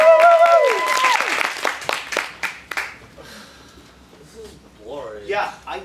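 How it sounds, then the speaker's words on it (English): Audience applause at an improv comedy show, a warm burst of clapping that fades out over a few seconds, with a performer's voice speaking over its start and again near the end. "So, this is Eiffel Tower after a warm round of applause!"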